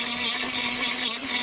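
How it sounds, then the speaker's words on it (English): A Milwaukee die grinder works over rusty metal, a continuous high whirring grind with a steady hum underneath, close and unbroken. "if I get my Milwaukee die grinder here and actually go over a bad area"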